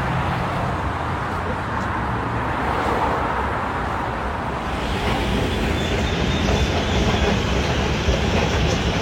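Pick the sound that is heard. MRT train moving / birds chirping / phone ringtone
MRT train moving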